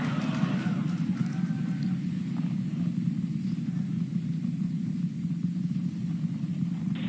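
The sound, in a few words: SpaceX Super Heavy Starship rocket engines rumbling during ascent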